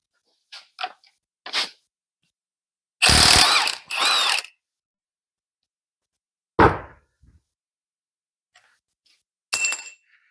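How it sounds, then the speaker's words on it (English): A 1/2 inch ratchet works on a 21 mm crank pulley bolt of an L61 engine during teardown, giving a few short clicking strokes and two longer ratcheting bursts separated by quiet gaps. "And I'll take off that crank pulley, which is 21 millimeter. I'm going to use my 1/2 inch for that."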